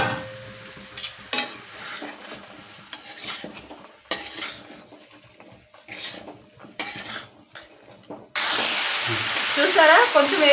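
Carrots, peas and mixed vegetables hit a hot pan of oil. Repeated metal spoon scrapes and clinks stir them, then a loud, steady sizzle rises near the end.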